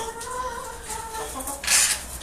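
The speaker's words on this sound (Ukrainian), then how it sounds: "Так, курка. Курка." Chickens clucking close by, a few short calls in a loose rhythm, followed by a sharp louder squawk near the end.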